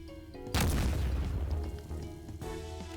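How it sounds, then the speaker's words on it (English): A Roblox RoCitizens explosion booms in suddenly, then a rumbling roar lingers for about two seconds before settling back into a quieter background hum. "So we have explosions over there"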